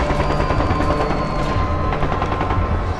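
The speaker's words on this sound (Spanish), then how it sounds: "Y entonces empiezan los primeros disparos." Gunfire erupts in a dense, continuous crackle of rapid shots, loud and unbroken over a rumbling background with no voices.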